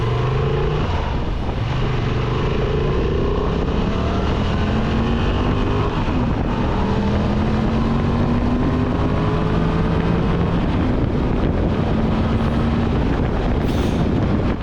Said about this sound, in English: it just sort of giving you an idea of how quickly it gets up to speed without having to absolutely open it up wide or thrash it right up to the top